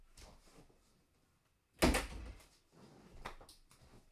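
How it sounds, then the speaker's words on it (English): A door swings shut with a single loud, close thud and rattle after a quiet pause, amid faint room sounds and shuffling. "I'm just going to close this door"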